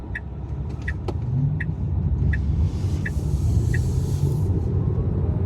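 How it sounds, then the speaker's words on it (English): 2024 Tesla Model 3 Highland accelerating, a steady low road rumble and tyre roar that swells slightly, punctuated by a few faint high ticks, with no one speaking. "All right, good acceleration."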